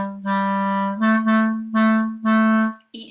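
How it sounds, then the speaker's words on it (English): A clarinet plays the A natural minor scale in a short rhythmic pattern, with a long first note followed by quicker detached notes. The tone is clear and close, and a brief click comes at the end. "I would like us to start off by playing the A natural minor scale"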